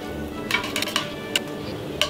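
A flexible sole filleting knife slices Black Angus beef into thin slices, making a few light, close scraping and tapping strokes against the board over a steady kitchen background, with no talking.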